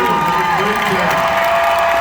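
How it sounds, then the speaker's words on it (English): A large crowd at a fan convention cheers and applauds continuously, with whoops and shouts rising over steady clapping, loud and close throughout. "give these guys a round of applause, and then keep that applause going for Mr. Fraser"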